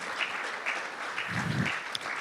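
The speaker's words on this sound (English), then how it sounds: "We'll give another round of applause to our panel." Steady applause from an audience at a panel discussion on political parties, a dense continuous patter of many hands at moderate level throughout the short stretch.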